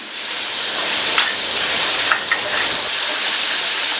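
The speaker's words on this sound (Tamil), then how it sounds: "எண்ணெயிலேயே நல்லா ஒரு நிமிஷத்துக்கு ஹை ஃப்ளேமில் வச்சு வதக்கி விட்டுக்கலாம்" Steady hissing sizzle of beans sautéing in hot oil over high flame, loud and close, with a few faint clicks of stirring and no talking.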